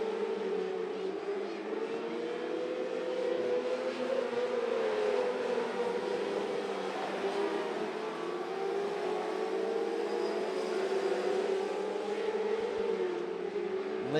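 A pack of 600R mini sprint cars runs wheel to wheel through a turn on a dirt oval, their engines keeping up a loud, continuous, rising and falling whine.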